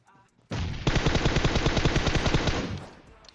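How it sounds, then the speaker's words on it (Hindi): Rapid automatic gunfire from a PUBG Mobile match, a loud dense burst of shots in quick rhythm that starts abruptly and runs for about two and a half seconds before cutting off. "जो भी गन चलाई बहुत बुरी तरह चलाई, सीधा सर पे बजा दिया"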